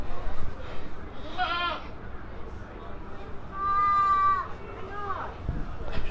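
Goats bleat at the Devon County Show, two or three distinct nasal calls rising over a busy murmuring crowd, with a person talking nearby.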